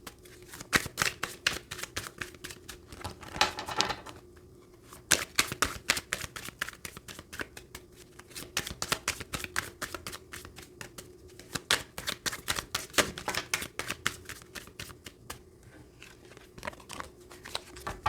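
Tarot cards shuffled by hand in rapid riffling bursts, a dense run of crisp papery slaps with short pauses between rounds, close and alone without talk.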